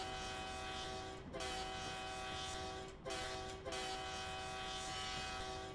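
A CSX switcher locomotive in Train Simulator Classic runs with a steady engine drone while its horn sounds in long sustained blasts, briefly broken by short gaps, close and loud with no speech.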